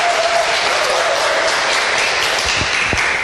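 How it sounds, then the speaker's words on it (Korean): A crowd at a business presentation breaks into loud, sustained applause, a thick wash of clapping filling the room evenly for the whole stretch. "이때 박수 한번 주세요."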